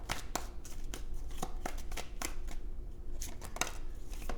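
Tarot cards shuffled by hand in rapid, irregular riffling and slapping strokes, close and continuous for several seconds with no voices.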